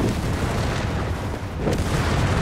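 Grenades going off in a Company of Heroes 3 battle, a dense continuous roar of blasts and booms with a sharper burst near the middle, loud and close, no talk over it.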